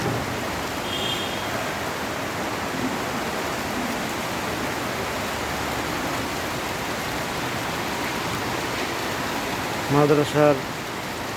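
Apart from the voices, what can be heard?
heavy rain falling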